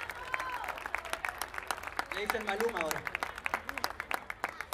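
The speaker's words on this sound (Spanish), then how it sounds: "un aplauso para él, por favor" Band concert audience clapping in scattered bursts while someone talks over the microphone, the applause lively but partly under his voice.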